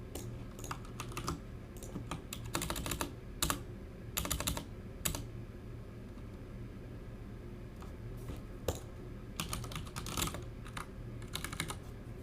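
Keys clatter on a computer keyboard in irregular bursts of quick typing with short pauses, close and moderately loud over a faint steady hum.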